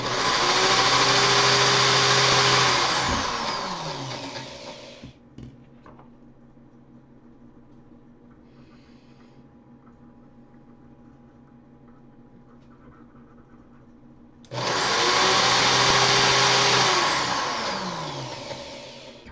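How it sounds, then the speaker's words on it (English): A power drill running in reverse whines loudly for several seconds, stops, idles quietly with faint clicks, then spins up again at full speed before slowly winding down. "Now drill in reverse, hold this."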